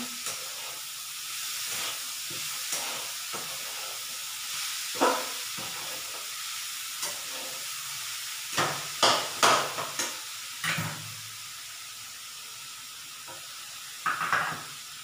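Jaggery being sautéed in a pan over a low flame, heard as a soft steady sizzle with quiet stirring scrapes and a few clinks of a spoon against the pan.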